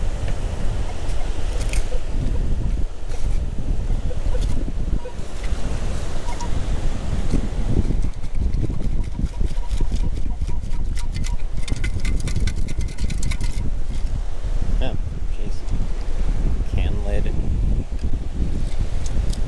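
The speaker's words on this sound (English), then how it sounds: "That was quite a windy day" Strong wind buffets a microphone on a beach during metal detecting, a loud continuous rumbling roar with gusty bursts, likely with surf mixed in and some voices under the noise.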